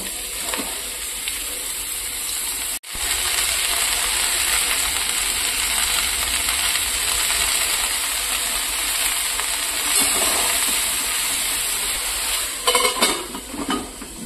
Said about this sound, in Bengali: শুকনো লঙ্কা, তেজপাতা আর কালো জিরে ফোড়ন দিয়ে লাউটা দিয়ে দিব।